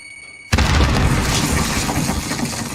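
A grenade explodes in a video game, a sudden loud boom after a short pause, followed by a rumbling, debris-filled decay that fades slowly.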